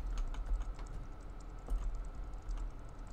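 Keyboard typing in the video game Yuppie Psycho, a rapid irregular patter of light clicks running steadily throughout at moderate level, with no talk over it.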